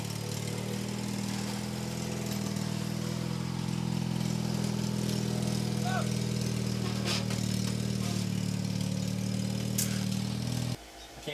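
A riding zebra lawn mower's engine runs at a steady, droning idle for about eleven seconds, close and continuous, before cutting off abruptly near the end.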